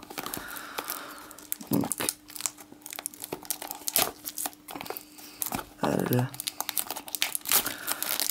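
A Pokémon Diamond & Pearl Legends Awakened booster pack is torn open. Close, loud plastic crinkling and tearing comes in bursts, with a brief voice near the end.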